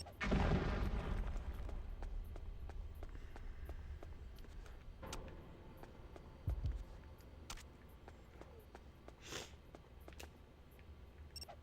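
Grenade explosion in Metal Gear Solid The Twin Snakes video game, a loud booming blast at the start that rumbles away, followed by scattered softer thuds and clicks.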